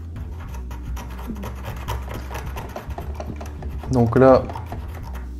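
Scissors scrape across an aluminium Seiko watch bezel insert in a short, close raspy scratch that swells briefly near the end, with someone talking in French over a steady background hum.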